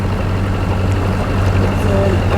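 A boat's engine runs steadily nearby on the Norfolk Broads, a low, constant hum beneath a wash of water.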